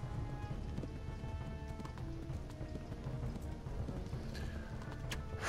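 Steady hoofbeats of a galloping horse in the video game Kingdom Come: Deliverance, a rapid clip-clop rhythm over a constant rumbling background with faint game music tones.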